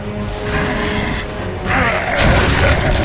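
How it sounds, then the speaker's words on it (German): Grenade going off in the video game Gears of War 3, a heavy booming blast that swells midway and stays loud, with crashing debris noise layered on game sounds. "Granate im Anflug!"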